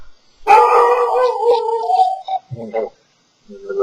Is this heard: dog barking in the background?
yes